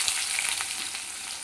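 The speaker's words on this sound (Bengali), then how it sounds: "এবার আমি এই তেলের মধ্যে দিয়ে দেব পেঁয়াজ কুচি।" Chopped onion hits hot mustard oil already carrying fried nigella seeds, the base for a spicy morla fish curry. It gives a dense, steady, close sizzle with faint crackles and no talking.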